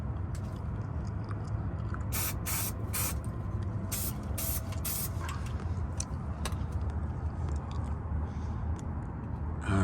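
Aerosol rust protection sprayed onto a truck undercarriage near the sway bar, a continuous close hissing spray with several short louder bursts, under steady background noise and no clear talk.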